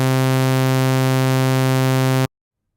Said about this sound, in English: if we continue adding up more sine waves of increasing multiple frequencies, we end up with our familiar sawtooth